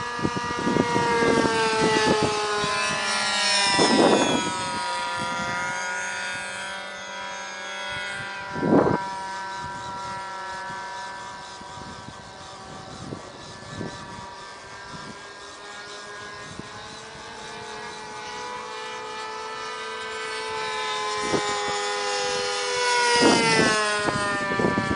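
A model aircraft engine whines at an airfield of a modelling club, its high buzzing tone rising and falling in pitch as it revs up and down, loud and sustained throughout, with brief thumps along the way.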